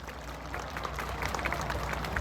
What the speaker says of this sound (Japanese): 皆さんもう一度大きな拍手でお送りください。